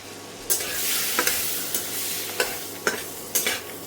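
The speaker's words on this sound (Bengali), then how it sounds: "দুটো তেজপাতাকে ছিঁড়ে দিয়ে দিলাম এবং 3 টুকরো দারচিনি আর 8-10টা গোলমরিচকে আমি ফোড়ন দিলাম।" Two torn bay leaves, three pieces of cinnamon and 8-10 peppercorns sizzle in hot butter, a close steady crackle punctuated by about six sharp spatula scrapes.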